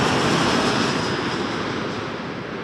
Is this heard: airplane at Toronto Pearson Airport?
yes